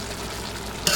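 Crab and shrimp go into a pot of hot olive oil for Haitian legume, a brief soft sizzle and stir with a louder scrape at the end.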